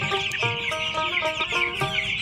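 Paris, tiger and Pakistani breed hens cluck close by in a busy, overlapping chorus of short repeated calls, steady and fairly loud, with no talk.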